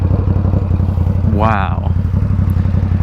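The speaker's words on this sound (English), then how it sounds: "So first ride with the competition Werkes exhaust" Ducati Supersport 950 S motorcycle fitted with a Competition Werkes exhaust, its engine droning loud and steady throughout with a rhythmic pulsing throb, while a rider briefly exclaims mid-clip over the running bike.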